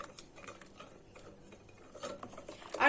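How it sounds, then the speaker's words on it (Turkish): Poğaça dough ingredients with oil and salt are stirred in a bowl, giving faint, soft tapping and scraping that grows louder toward the end. "Güzelce bir karıştıracağız bu malzemelerimizi"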